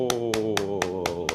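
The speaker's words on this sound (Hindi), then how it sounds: "ताली मारो।" Hand clapping during a live meditation and concentration exercise: six sharp, evenly spaced claps at a brisk, regular pace over a steady sustained tonal hum.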